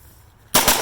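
An East German AK rifle fires at a turkey outdoors, several loud close shots in quick succession after a quiet moment.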